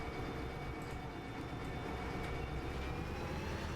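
Steady, continuous rumble of a locomotive in the train game Derail Valley, hauling timber, a dense unbroken drone with a faint rising whine, no talk.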